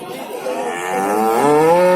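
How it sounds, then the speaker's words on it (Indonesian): A Pegon cow crossed with Javanese and Simmental breeds lows at a busy cattle market in Jatirogo, Tuban, a single drawn-out moo rising in pitch and loudness, close by. "Kalau yang ini pegon, tapi ini pegon campuran Jawa sama Simental."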